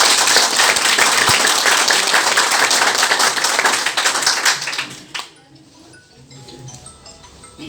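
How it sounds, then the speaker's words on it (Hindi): An audience at a business idea-sharing seminar breaks into loud, dense applause that holds steady for about five seconds, then quickly dies away to near silence with a few scattered claps. "तो हम चाहेंगे एक बार जोरदार तालियां"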